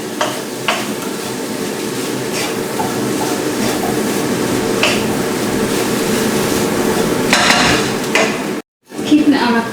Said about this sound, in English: Just give that a bit of a stir.